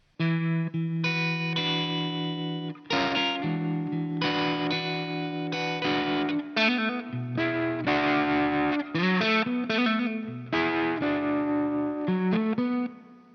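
Electric guitar with distortion and chorus playing a blues piece, moving from the four chord back to the one, with sustained chords and bright single-note fills, loud and continuous with no talking.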